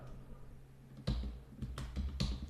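Keys clack on a computer keyboard as a search term is typed into a browser, several quick bursts of taps spaced across the moment, close and fairly quiet with no talking.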